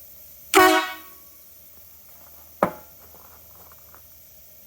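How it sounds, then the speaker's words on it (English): A bus air horn, fed by the air brake system at about 50 PSI, gives one loud, close blast of roughly half a second, then a second shorter toot about two seconds later, with quiet idle between. "I've got air horn."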